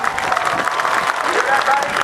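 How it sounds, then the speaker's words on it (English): Crowd at the 2008 NAS Oceana Airshow applauding after a CF-18 Hornet demonstration, a broad, continuous wash of outdoor clapping and cheering with no break. "Give them a big round of applause."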